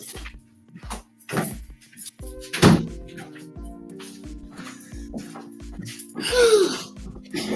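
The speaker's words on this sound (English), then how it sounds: "Let me close the door." An indoor door shuts with a single solid thunk, set among faint background noises and a few small knocks, with a sniff-like breath near the end and no clear talking.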